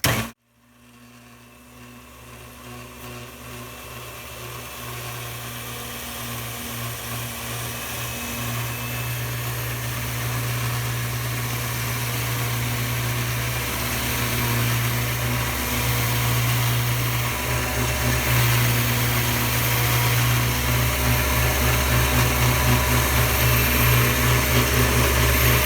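A belt-driven stained glass grinding machine switches on and runs with a steady motor hum that builds slightly in loudness, with strong low tonal bands and a broad whirring hiss, continuous and close with no talking.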